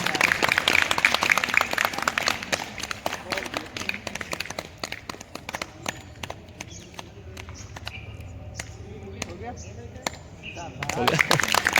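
A group claps hands repeatedly as a yoga exercise, sharp uneven claps running throughout and thinning out midway before swelling again, with voices heard among them.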